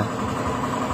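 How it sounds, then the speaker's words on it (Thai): A damaged transmission belt on a car whose gearbox took in water whines under a steady engine drone, a brief continuous hum with no pauses and no talk. "สายพานเกียร์ก็เสียแล้ว เพราะนั้นมีเสียงหอน"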